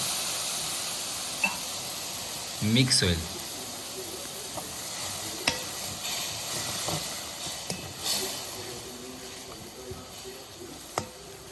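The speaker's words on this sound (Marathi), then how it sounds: "आता आपण ह्याच्यात अर्धा कप पाणी टाकूया" Steady hissing sizzle as water hits a hot mixture of wild Konkan forest greens (bharangi bhaji) in a pan, with faint clinks of a utensil and a voice speaking briefly over it.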